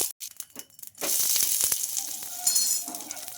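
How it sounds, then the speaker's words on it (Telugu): Semiya breakfast batter fries in oil on a pan, starting with a few sharp crackles and then settling into a loud, steady sizzle close up, with occasional spatters, no talking. "ఇప్పుడు దీన్ని కూడా ఒక నిమిషం పాటు ఇంకా వేయించుకోవాలి"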